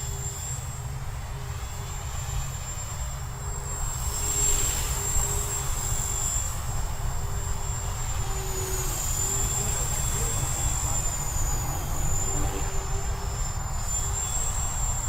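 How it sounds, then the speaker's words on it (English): A steady high-pitched motor whine with a constant low rotor drone, sustained and fairly loud from a nearby old T-Rex clone model helicopter. "Super, super old helicopter."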